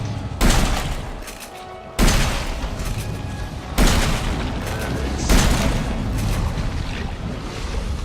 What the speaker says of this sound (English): Maybe I'll hit her with a shotgun a couple times.